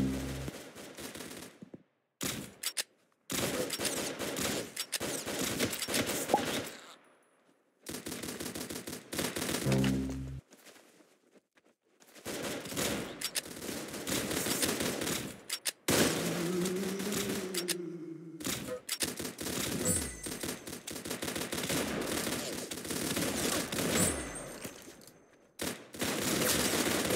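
Gunfire in bursts across a war scene, with rapid fusillades and machine-gun fire broken by short silent gaps, loud and close, with some low rumbling thuds between volleys.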